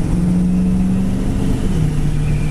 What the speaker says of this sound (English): Engine sounds great.